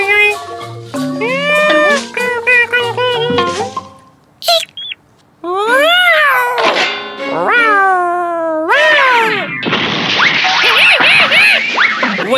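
A cartoon cat yowls in a kids' animated show, giving long, loud, wavering cries that rise and fall, broken by short pauses and mixed with squawky, bird-like calls. The sound ends in a harsh, noisy screech.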